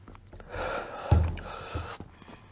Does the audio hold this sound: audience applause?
no